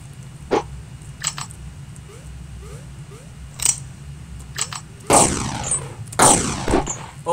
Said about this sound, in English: He's got a sniper rifle.